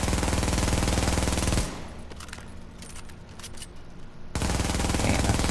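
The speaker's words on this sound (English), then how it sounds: "now if I shoot my MP7" Rapid automatic MP7 fire in the shooter game The Division, loud sustained bursts at the start and end with a quieter gap of clicks and handling noise between them.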